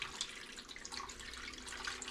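Water pours steadily into a pan to make a water bath for Japanese pudding, a soft continuous splashing trickle heard faintly and alone.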